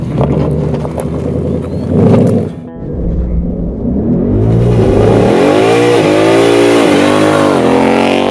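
A Ford Mustang GT 5.0 V8 with a 10-speed automatic revs loud and close. The note dips briefly during a shift, then climbs again in long rising sweeps of hard acceleration.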